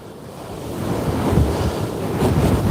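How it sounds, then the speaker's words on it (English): Strong wind on a Christmas Eve walk in Berwick buffets the microphone in heavy, rumbling gusts that swell louder toward the end, with a surf-like roar underneath. "I can't believe how windy it is"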